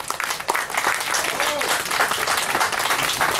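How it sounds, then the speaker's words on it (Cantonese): Sustained applause from an audience at a political speech gathering, dense and steady throughout, with a voice speaking over the clapping. "俾個掌聲好唔好啊？"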